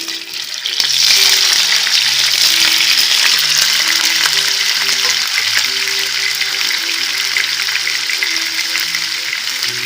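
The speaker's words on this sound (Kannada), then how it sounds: "ಈಗ ಕಟ್ ಮಾಡಿರೋ ಪನ್ನೀರ್ ಹಾಕೊಳ್ತಾ ಇದ್ದೀನಿ." Cut paneer dropped into hot oil and ghee in a pan, bursting into a loud, continuous sizzle that swells after the first second and stays steady and close, with faint clinks underneath.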